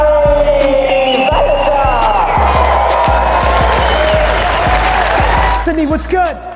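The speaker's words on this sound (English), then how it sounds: "Big round of applause for GaryVee!" A Sydney audience on its feet applauds and cheers for GaryVee, loud sustained clapping and shouting filling the hall, with heavy rhythmic thumps beneath and a voice calling out over the crowd near the end.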